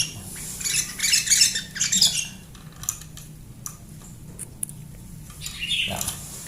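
A sooty-headed bulbul (kutilang), a caged bird, gives bright squawking calls in bursts, loudest early on and again near the end, over a faint room background.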